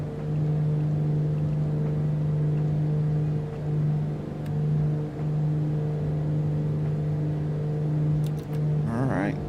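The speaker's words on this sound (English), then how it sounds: "Listen to those turbos spool up." Turbocharged piston engines on a BlackSquare Duke in a flight simulator, a steady loud droning hum with a strong low tone that swells gently in waves, and a short radio voice near the end.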